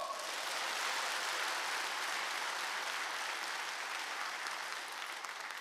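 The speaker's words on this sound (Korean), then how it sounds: "박수!" A church congregation at an evening service claps in a thick, sustained wash of applause that holds steady throughout, fairly distant and uniform, with no talking heard.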